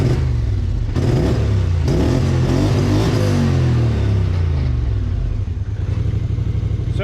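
Aftermarket exhaust on a vehicle idling at close range, a loud continuous low engine rumble with clattering pulses and slight swells in pitch throughout.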